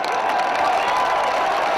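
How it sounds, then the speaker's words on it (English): Rugby league crowd at a Wakefield versus Leeds match giving a warm, steady round of applause and cheering, a dense continuous wash of clapping from a large stadium audience with no single voice standing out. "Sam Obst gets a warm round of applause as he makes his way back into his defensive position"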